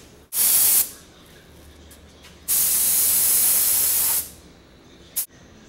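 An HVLP spray gun applies enamel paint in three bursts of loud, close hiss: a half-second spurt, a longer steady spray of nearly two seconds, then a quick final puff, with quiet room tone between.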